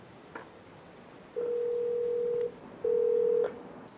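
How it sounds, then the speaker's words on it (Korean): A street emergency bell linked to a nearby police box gives two steady electronic ringing tones, a long one and then a shorter one, over faint street background. "가까운 지구대와 연결된 비상벨을 2차례나 눌러봤지만 아무런 응답이 없습니다"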